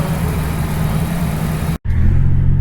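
A 1987 Buick Grand National's turbocharged V6 runs steadily after a turbo replacement, a loud, close, even rumble with a brief cut near the end before the same drone resumes.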